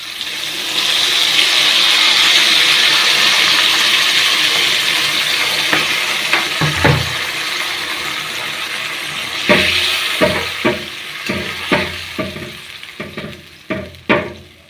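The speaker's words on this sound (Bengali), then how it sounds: "এবার পরিমাণ মতো জল দিয়ে দেব" Water pours in a steady loud rush into a pan of spiced meat curry, then gives way to sizzling bubbling and a run of sharp clinks and stirring knocks, with no talking.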